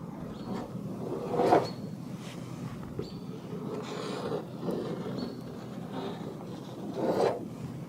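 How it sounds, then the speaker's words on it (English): Hardened body filler on a Ford F350 being sanded with sandpaper by hand, a quiet raspy scraping in irregular strokes with a few stronger rubs, close up and without talk. "A little bit of sandpaper, that'll look real good."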